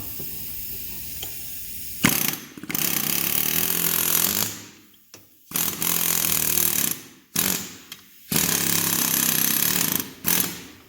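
A pneumatic air punch hammers in loud rapid bursts on a drill's inner bushing, running for a few seconds, pausing, then starting again, close by with no speech.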